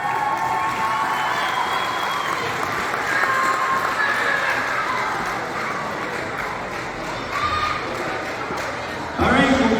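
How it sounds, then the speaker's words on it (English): A banquet crowd at a minor hockey awards night claps and cheers for an award recipient, a steady, full round of applause filling the room, with a sharper burst of clapping near the end. "Round of applause for Max."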